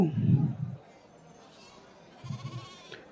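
Goats and lambs at a Saturday livestock market in Achampet give two low, close bleating bursts, one at the start and one near the end, with quieter background chatter between.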